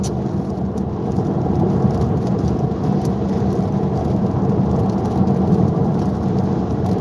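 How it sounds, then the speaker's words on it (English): Steady rain with low thunder rumbling outside, heard from inside a vehicle driving on a road, a continuous broadband wash at moderate loudness with no voices. "Man, it can't decide whether it wants to rain today or not."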